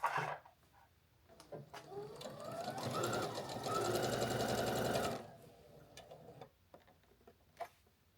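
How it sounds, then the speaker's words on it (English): A domestic sewing machine stitching across a seam in a quilt block runs in a steady, close whirring burst for a few seconds, with small clicks and handling noises before and after. "now she's going to sew right across that seam"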